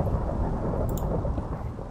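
Thunder rumbles through a Minecraft thunderstorm, a deep heavy roll over steady rain hiss, close and loud, with a brief brighter crackle partway through.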